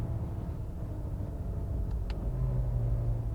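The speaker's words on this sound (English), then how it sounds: "Even when you play with the paddles, it downshifts extremely well. Third gear, coming to a stop." A 2016 Acura TLX car rolls to a stop on its paddle-shifted transmission, a low engine rumble rising slightly near the end as it downshifts, with a brief click in the middle.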